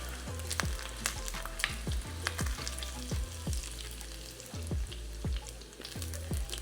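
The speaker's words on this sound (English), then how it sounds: "We got that bacon fat rendering down in there." Bacon fat renders in a hot pan for shrimp and grits, giving a soft, continuous sizzle broken by regular sharp pops and crackles, close and on its own without voices.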